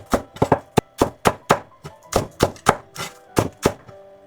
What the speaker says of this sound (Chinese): 几根葱，葱白切碎。